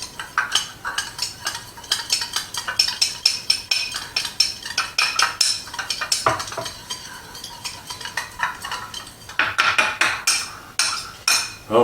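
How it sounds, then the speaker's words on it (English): A whisk clinks rapidly against a bowl as sauce ingredients for sesame panko crusted chicken are beaten together, a fast, steady metallic scraping rhythm with a brief pause near the middle, close and fairly loud. "So we get to whisk that together."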